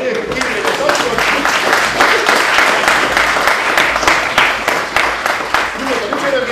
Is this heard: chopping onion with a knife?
no